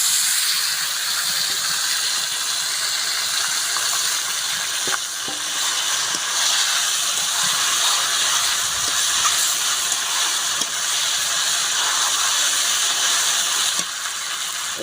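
Goat meat poured into a hot pan with onions, whole cumin and salt, sizzling and frying steadily with occasional clinks of a utensil.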